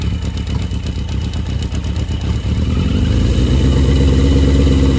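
A barn-find motorcycle engine idles on choke with an auxiliary fuel tank connected: a loud, close, rapid thumping putter that settles into a fuller, steadier beat partway through, with no voices.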